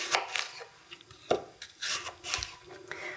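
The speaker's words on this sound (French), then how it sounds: "Alors pour les pommes, on les coupe en quartiers." A knife cutting apples into quarters on a board, a few soft irregular crunching and scraping strokes heard close up and fairly quiet, with no talk.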